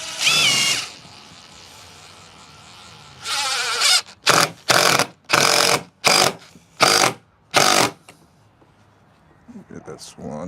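A power driver sends a screw into a wooden coffee table leg in a series of short whirring bursts, about six quick pulses in a row after an earlier longer spin, close and loud with quiet pauses between.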